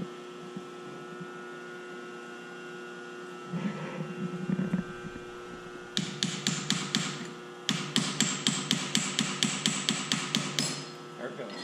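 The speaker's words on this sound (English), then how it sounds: "Realize this is just a soft dead blow hammer. I like just to tap that" Soft dead blow hammer tapping a drift key on a 6.5 Creedmoor rifle bore guide, a rapid series of light, even taps over a steady mains hum, with a few scattered knocks before.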